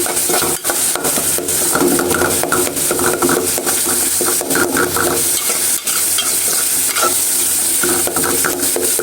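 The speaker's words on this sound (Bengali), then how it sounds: "আর এদিকে আমি পেঁয়াজগুলো একটু বাড়ি দিয়ে নিই।" Onions with turmeric, chilli, coriander and cumin powders and salt fry loudly in a pan, under constant rapid scraping and clacking strokes of a spatula that keep up a busy, ratcheting rhythm throughout.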